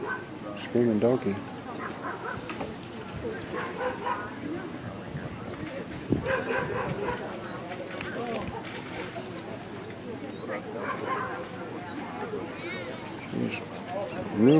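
Hound dogs at an outdoor dog show yelp, whine and bark in scattered bursts close by, mixed with steady crowd chatter and people talking throughout.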